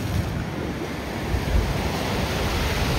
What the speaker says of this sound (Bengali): আর এইদিকে হচ্ছে সমুদ্র।